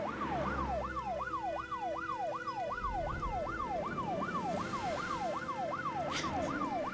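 Rapid wailing ambulance siren from the video game Troubleshooter, a fast repeating rising yelp cycling steadily and loud throughout, with a low engine-like rumble underneath and no talking.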